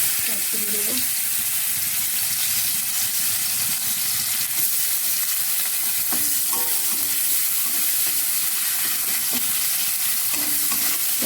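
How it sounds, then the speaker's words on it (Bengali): Dry red chillies and nigella seeds spluttering in hot oil in a wok, a steady close sizzle with brief crackles and a few stirring scrapes, no talk. "এবার আমি শুকনো লঙ্কা দিলাম, একটু কালো জিরে ফোড়ন দিলাম"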